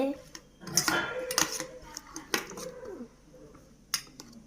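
A spoon scrapes and clinks against a vessel while mango pieces are mixed into Ugadi pachadi with neem flowers, giving several irregular metallic taps and scrapes at close range. Someone speaks over the mixing.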